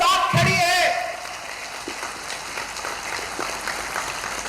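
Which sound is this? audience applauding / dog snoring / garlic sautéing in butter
audience applauding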